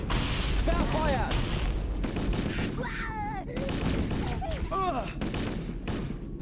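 Rapid gunfire and explosions from the video game Halo: Combat Evolved crackle continuously up close, with bursts of shots, booms and chirping weapon effects mixed with game voices.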